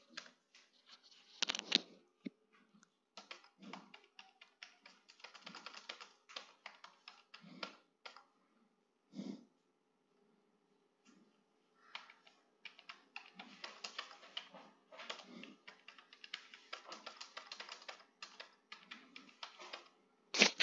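Values being typed on a computer keyboard during data entry into a school portal: quiet, irregular clusters of key taps with pauses between bursts, close and soft, with no talk.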